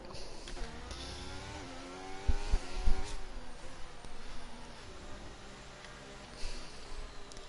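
Ferrari Formula 1 car engine in the racing game F1 23 at Austin, a steady high-pitched whine that rises and falls with revs, with brief low thumps partway through.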